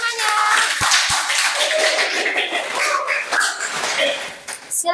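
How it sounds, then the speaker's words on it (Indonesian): Classmates applaud in a classroom during a teachers' practical assessment, a dense burst of clapping filling the room with a few sharp knocks, voices murmuring underneath. "Beri aplaus untuk temannya"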